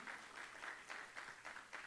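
A church congregation claps together in a steady, rhythmic burst of applause that sounds fairly faint and distant, with no voices over it.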